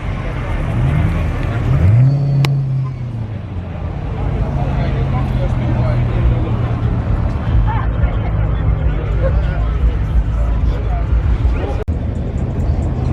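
A loud car at a donk car show fitted with a roll cage idles with a deep, steady rumble and one brief rev, close by, amid crowd chatter and background noise.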